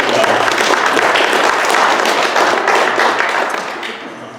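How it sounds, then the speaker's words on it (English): A transit-agency training group claps for a colleague, a brisk, crowded burst of hand claps from a room of people that holds strong and then tapers off at the end. "Go ahead and clap your hands for that guy."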